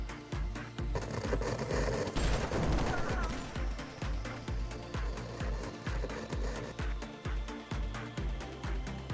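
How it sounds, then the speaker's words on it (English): Sustained automatic gunfire in the S.T.A.L.K.E.R. 2 video game, a dense burst of shots early on giving way to rhythmic repeated bursts, with a voice talking over it. "I heard an explosion and what I thought was gunfire"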